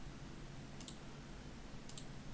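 Computer mouse clicks while modeling in 3ds Max: two brief, faint double-clicks about a second apart, set against steady low background hiss.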